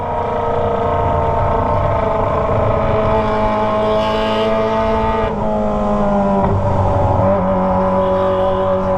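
A loud Kawasaki ZX25R sport motorcycle with a Toce exhaust revs and drones continuously with shifting pitch, changing tone sharply a couple of times as it accelerates nearby.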